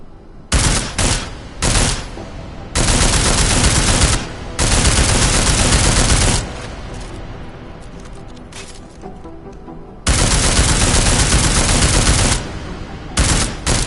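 Video game gunfire in Deus Ex: Mankind Divided, loud bursts of rapid automatic shots in several long volleys separated by short pauses, fired against an armored target.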